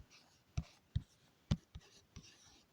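Marker or chalk strokes on a board during a history class, a handful of short separate taps and scrapes spaced irregularly, fairly close and quiet with no talking.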